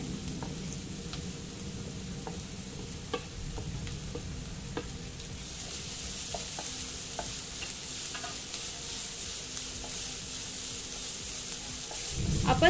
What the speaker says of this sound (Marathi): आणि इथे हा कांदा आणि सिमला मिर्च या तेलामध्येच अशी परतून घेते छान